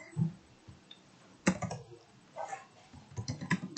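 Close, crisp key clicks as JavaScript code is typed on a computer keyboard, arriving in irregular clusters with brief gaps and no voices.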